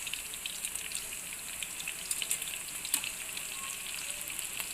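Eggplant slices fry steadily in hot oil until golden brown, giving a continuous close hiss of fine crackles with a few sharper pops and no talking.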